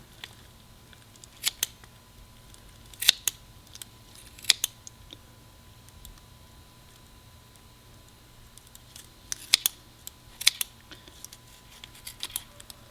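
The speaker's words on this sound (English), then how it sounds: "I'm just going to use the kitchen scissors to help me remove the meat and fat and" Kitchen scissors snip through chicken wing meat, fat and cartilage in a quiet kitchen, giving sparse, sharp clicks and crunches in small clusters at irregular intervals, close and fairly faint.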